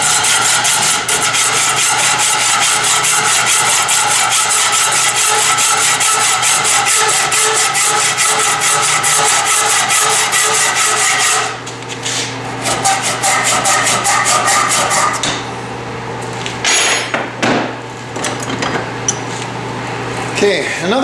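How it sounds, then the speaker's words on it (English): Threaded all-thread rod clamped in a vise is hacksawed with fast, steady back-and-forth strokes, loud and close, before the cutting tapers off into scattered metallic clinks. "We gotta go cut the all threaded rod here."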